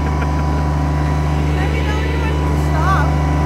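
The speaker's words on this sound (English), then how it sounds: "Admit it, you love playing in the dirt with a backhoe." Backhoe diesel engine rumbling steadily nearby while digging a dirt trench for a propane tank, a constant low drone with faint voices and brief higher chirps over it.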